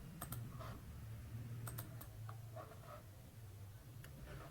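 Crisp mouse clicks on a computer while drawing points in Smart Notebook, a few sharp clicks scattered irregularly over a steady low hum, close and fairly quiet.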